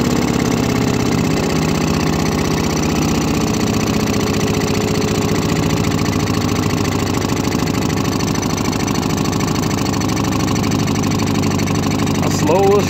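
A 1926 Johnson A-25 outboard motor runs on a pond, a steady close buzzing putter with rapid even firing pulses that holds constant for the whole stretch.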